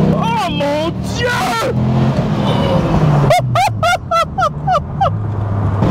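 A Dodge Viper SRT-10 accelerates hard in second gear, its engine a loud, low, continuous roar heard from inside the car, while a voice exclaims excitedly over it in short bursts.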